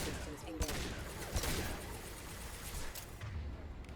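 Sniper rifle fire in the video game Mass Effect 2, heard as a few loud sharp cracks and booms among dense game action noise, with someone talking over it.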